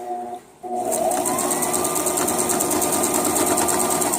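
A sewing machine runs steadily, stitching a straight seam across a pee pad; after a brief pause near the start it hums loud and continuous with a fast even stitching rhythm.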